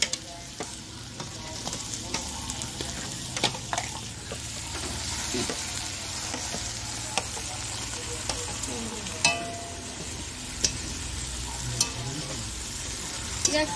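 Onions frying in a pan after garlic, for an egg cake curry, with a steady close sizzle and frequent stirring clicks and scrapes throughout, no talking.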